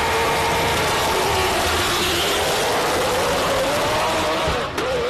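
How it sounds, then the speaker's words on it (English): A highly modified Subaru hill climb race car at a hill climb event, its engine roaring very loud and sustained with a rising, wailing pitch like a single-seater racer, drowning out everything else. "Sounds like an Indy car on the line."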